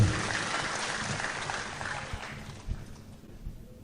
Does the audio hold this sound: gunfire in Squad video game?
no